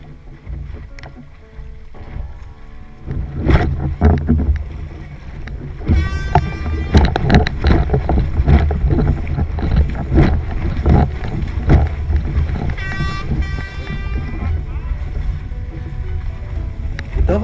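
Two short horn blasts signal a false start at a windsurfing world championship race in Mondello, heard from out on the water, sounding over steady wind buffeting and water noise.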